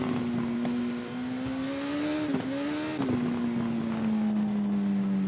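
Superbike engine in TT Isle of Man racing game, a loud sustained high-pitched drone that holds steady, dips briefly around gear changes, then climbs and slowly falls, continuous throughout with no talk.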